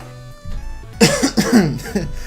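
A few harsh coughs burst out close by in quick succession, loud and raspy, after a quieter stretch.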